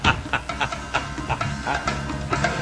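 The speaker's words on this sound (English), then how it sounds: "That's the chickens in the other room." Chickens clucking in short repeated bursts, somewhat muffled and distant, with a low background murmur throughout.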